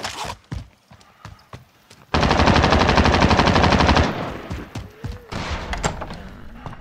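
Sustained automatic gunfire in Call of Duty Warzone, a loud unbroken two-second machine-gun burst, preceded and followed by scattered single shots, footsteps and clatter from the game.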